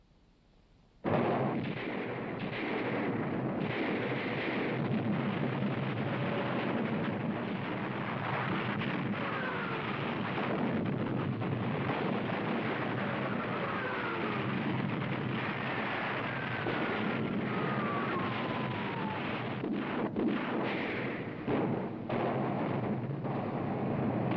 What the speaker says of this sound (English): As planned, the British guns opened fire at exactly 9:40.